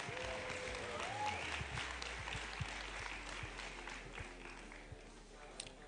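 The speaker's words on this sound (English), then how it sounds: "Please give them a round of applause." Steady audience applause at a pageant grand final, a continuous moderate clatter of many hands with a low hum beneath and no one talking over it.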